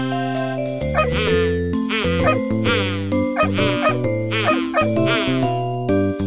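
A little dog's barks sound in a French children's nursery song, blended into bright, steady music with sung vocals throughout.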